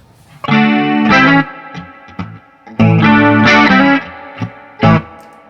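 Electric guitar played through a Line 6 HX Effects unit with distortion and chorus, loud sustained chords and single notes in two long phrases separated by short stabs, no talking.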